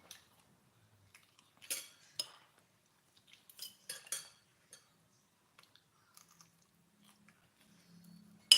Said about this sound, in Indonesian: Udah habiskan nasi goreng ini guys.